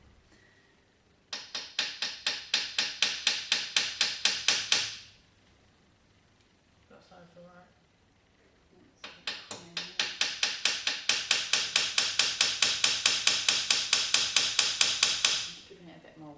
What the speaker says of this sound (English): if you're doing a massive rivet, you need a bigger hammer